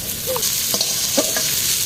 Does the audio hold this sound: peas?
yes